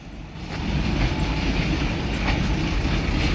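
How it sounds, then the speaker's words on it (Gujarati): A freight train rolls past a closed level crossing, its steady dense rumble and wheel clatter rising within the first half second and holding loud and close throughout, with no talk. "રેલગાડી આવી ગઈ છે."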